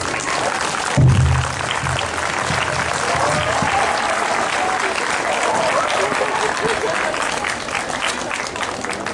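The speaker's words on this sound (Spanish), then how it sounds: "Despedimos al Padre con un fuerte aplauso, por favor, muy fuerte" Loud, sustained applause from an audience honoring a priest at a historical conference, continuous clapping and crowd noise filling the whole stretch, with voices mixed in beneath.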